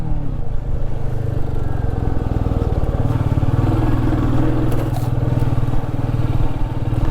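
Royal Enfield Meteor 350 Supernova motorcycle riding off-road, a steady close engine drone with rattling clatter from rough ground throughout, no talking.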